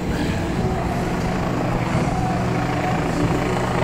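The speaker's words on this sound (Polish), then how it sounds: "Helikopter może być po to, żeby nagrywać?" A helicopter drones steadily and continuously, its rotor and engine noise filling the air without a break.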